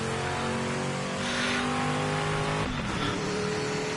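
A GTP race car in Gran Turismo screams at high revs with a steady, loud engine tone, then a quick shift drops the pitch near the end. No talking is heard.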